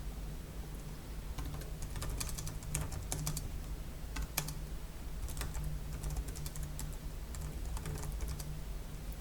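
Steady typing on a computer keyboard, rapid clicky keystrokes in uneven bursts over a constant low hum, close and moderately loud throughout with no talking.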